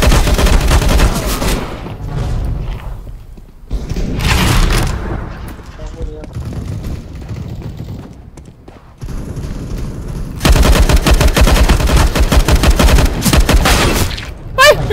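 Gunfire in Counter-Strike: Global Offensive comes in loud bursts of rapid shots, separated by quieter stretches, while a player talks over the action.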